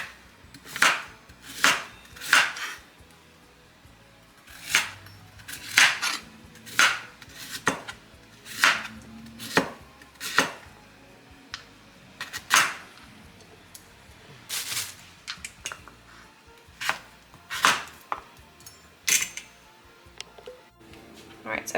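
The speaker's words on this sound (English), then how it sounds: "Alright, so I've peeled the radish, and then you can just slice it any kind of way you want." A knife slices a peeled radish diagonally on a cutting board, sharp chops landing one after another in an uneven rhythm, close by, with a voice talking now and then.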